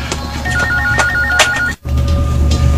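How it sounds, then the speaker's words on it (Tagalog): A telephone rings in a radio drama, with a repeating electronic two-tone trill that sounds loud and close, then stops abruptly and gives way to a steady background hum. "Ang telepono, may bagting."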